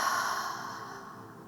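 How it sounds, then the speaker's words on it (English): A single deep exhale at the close of a restorative yoga practice, a soft, breathy sigh that fades gradually over about a second and a half, heard alone at low level. "Inhale and exhale."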